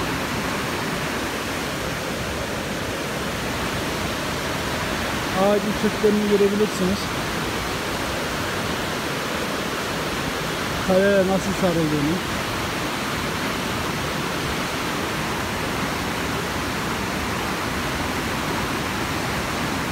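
A steady roar of the Palovit waterfall at Ayder plateau in the Kaçkar mountains, a constant broadband rush heard up close as someone speaks briefly over it twice.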